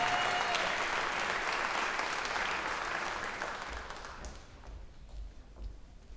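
An audience at a middle school jazz ensemble concert claps for the soloists, a dense burst of applause that gradually thins out and fades to a few scattered claps.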